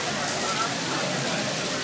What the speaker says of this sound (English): now that it's started raining